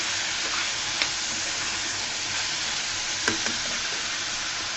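Bottle gourd peel fries in oil with a steady, dense sizzle, broken by a couple of faint clicks from a utensil.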